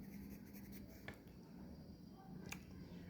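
A pen scratches across a paper form in short strokes, quiet and close, with a couple of sharper ticks as it lifts and taps, and no speech.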